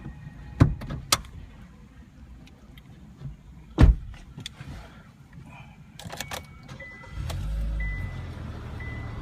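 Someone climbs into the driver's seat of a 2015 Kia Optima: a solid door thud, a second heavier shut, then soft shuffling and seat rustle inside the car, with faint handling noises between.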